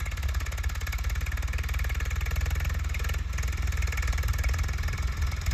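A tractor engine runs steadily out on a farm field, a loud, close, continuous low rumble with a fast throbbing pulse and no talking.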